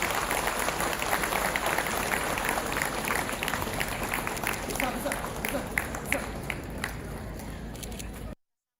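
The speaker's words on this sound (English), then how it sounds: "Support this memorable event with a round of applause." A crowd at a public event in Meghalaya gives a sustained round of applause, a continuous dense clatter of hands at steady loudness, with a faint voice underneath, ending abruptly after about eight seconds.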